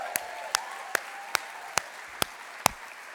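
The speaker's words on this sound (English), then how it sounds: "Let's give another round of applause and congratulations to John Ridley" Sparse, widely spaced claps ring out at an awards gala, roughly seven sharp single strikes at a slow even pace over a soft room background, sounding like just a few people clapping rather than a full ovation.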